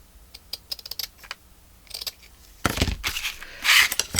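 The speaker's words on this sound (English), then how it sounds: "Let's cut it down just slightly because it is quite large." Paper being trimmed down for a handmade spring daisies craft journal: scattered light clicks, then louder crisp rustling and snipping bursts near the end, close and without speech.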